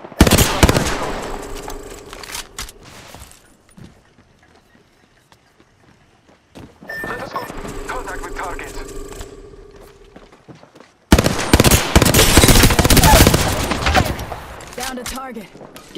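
Bursts of rapid automatic gunfire in the game Apex Legends, loud and close, coming in three separate volleys with near-silent gaps between them, along with brief game voice lines.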